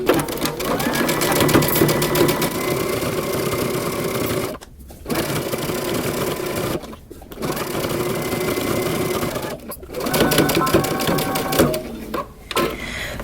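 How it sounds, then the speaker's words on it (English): A sewing machine stitches a sleeve seam with a 5/8-inch allowance, making a rapid, close mechanical chatter that runs in bursts broken by brief stops, with some faint talk in the background. "we're going to stitch using 5/8 of an inch seam allowance"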